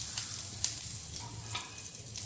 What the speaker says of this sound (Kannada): ಸ್ನೇಹಿತರೆ, ಎಣ್ಣೆ ಕಾದಿದೆ. ಗ್ಯಾಸ್ ಆಫ್ ಮಾಡಿಬಿಡ್ತೀನಿ. ಆಫ್ ಮಾಡಿಬಿಟ್ಟು ಒಂದು ಅರ್ಧ ಟೀ ಸ್ಪೂನಷ್ಟು ಹಿಂಗೆ ಹಾಕ್ತಾ ಇದ್ದೀನಿ.